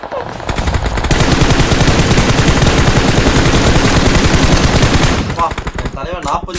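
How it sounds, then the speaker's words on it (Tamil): Sustained automatic machine gun fire in the BGMI battle royale game, a long rapid burst of dense repeated shots for about four seconds, loud and close, then trailing off into scattered game sounds. "தலைவன் 40 புல்லட் சுட்டான்."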